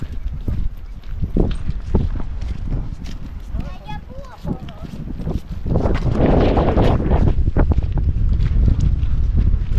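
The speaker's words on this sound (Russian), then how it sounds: "Здесь как раз чувствуется завывание ветра, потому что мы сейчас открыты всем ветрам" Gusty wind buffets the microphone in rough low roars that swell toward the end, mixed with a person talking and some footsteps, on an exposed pedestrian bridge in winter in Veliky Novgorod.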